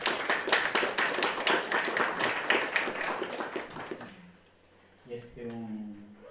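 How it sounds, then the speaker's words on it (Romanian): An audience at a Catholic theology faculty lecture claps for a priest who has just become a doctor of theology, with dense, rhythmic hand claps for about four seconds before they stop and a voice speaks. "Trebuie să-l aplaudăm."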